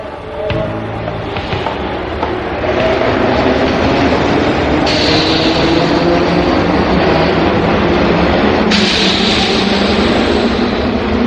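A subway train rumbles loudly beside a platform, with steady mechanical roar, a hissing brake release and rising high-pitched whine as it moves.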